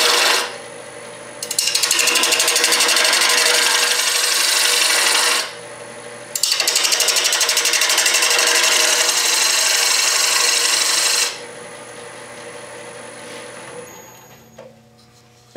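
A wooden offset pocket mirror spins on a lathe as a tool thins it, giving two long, loud bursts of steady scraping and cutting separated by a short pause, over the hum of the motor.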